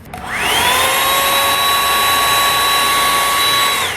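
A Revlon hot air brush running on its high setting gives a loud, steady whirring blower roar with a thin high whine. It spins up quickly, holds evenly for about four seconds, then cuts off.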